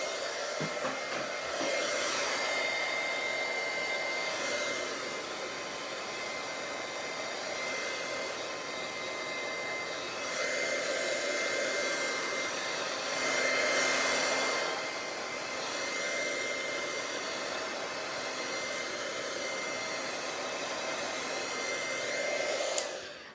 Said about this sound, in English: you take your embossing gun and you play with the inks